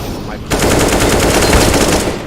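AK rifle fire in a Counter-Strike style video game match on the Inferno map bursts in after a brief pause, a loud rapid automatic rattle that continues for about two seconds.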